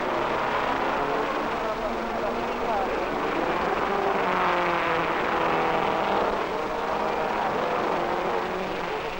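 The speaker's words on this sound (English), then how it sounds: "Australia's young Bruce McLaren driving a British Cooper Climax" Cooper Climax race cars at the 1961 Monaco Grand Prix drive past with a steady, buzzing engine drone that swells and fades, heard under an announcer's narration.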